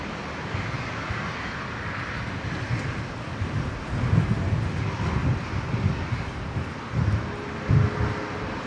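A passenger aircraft, a Virgin service from Proserpine, arriving on the new runway at Brisbane airport, heard as a distant, steady low engine rumble with wind buffeting the microphone, swelling slightly toward the end.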